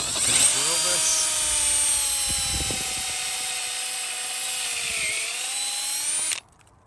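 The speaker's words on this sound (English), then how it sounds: "So I'm just going to drill this." A power drill boring a tap hole into a maple tree trunk outdoors in February, a steady high whine held close and loud for about six seconds before cutting off abruptly.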